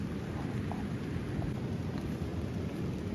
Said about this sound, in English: This rain is getting old, but it's definitely an adventure for sure.